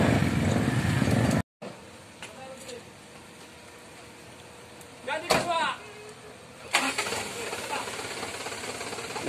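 A car stuck on a makeshift emergency bridge in rainy Sumatra, its engine running as a low, steady rumble beneath people talking, with brief louder bursts of activity and clatter midway.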